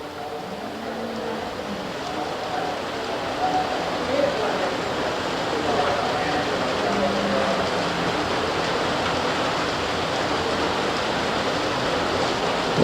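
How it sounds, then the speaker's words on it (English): Steady broadband patter of rain drumming on a tin roof over a livestock show ring during a 4-H fitting and showmanship event, continuous throughout with faint voices and announcer talk underneath. "You can probably hear the rain hitting off the tin roof here."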